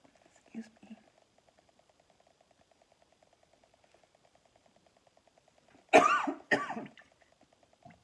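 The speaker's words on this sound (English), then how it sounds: "I have a chronic cough, so I will be coughing at different times." A faint cough early on, then two loud, harsh coughs from a person with a chronic cough in quick succession near the end, with quiet steady ticking in between.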